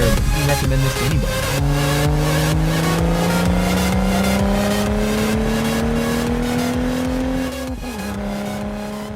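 Loud straight-piped exhaust of a BMW 435i revving continuously, its engine note climbing steadily in pitch and then dropping near the end, raspy and close throughout with no talking.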